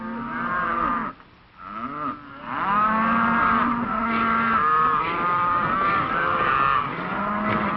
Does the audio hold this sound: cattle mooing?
yes